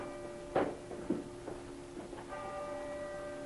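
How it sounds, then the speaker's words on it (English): A bell rings for a lecture, struck a few times near the start with clear ringing tones that fade over a faint steady hum. "Do you hear the bell ringing?"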